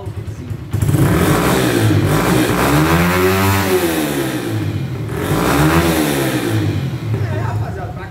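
A Honda Fan 125 motorcycle fitted with a sport exhaust, revving loudly up and down in two rising-and-falling sweeps, close by with a rough, steady idle between.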